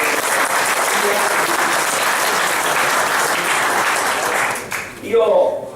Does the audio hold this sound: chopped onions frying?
no